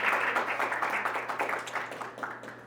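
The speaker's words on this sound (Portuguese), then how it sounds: "Palmas para a Luísa" Audience applause at a youth environmental sustainability panel, a steady wash of many hands clapping for about three seconds at moderate volume, with no speech over it.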